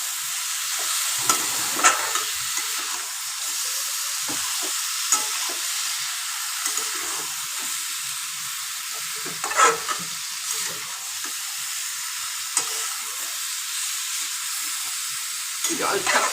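Chicken stewing slowly with onion and tomato in a pan, giving a steady soft sizzle while it is stirred, with scattered scrapes and clinks throughout and no voices.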